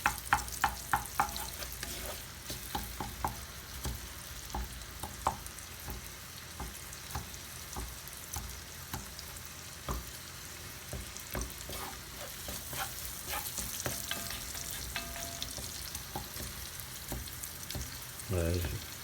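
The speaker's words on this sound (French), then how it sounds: "on met nos oignons. Voilà. On va les laisser brunir un peu." Onions sizzle and crackle in a hot pan while browning for a spaghetti bolognese, with steady frying hiss and frequent sharp pops and spatters, up close with no talking.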